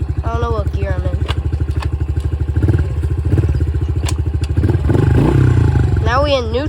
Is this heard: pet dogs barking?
no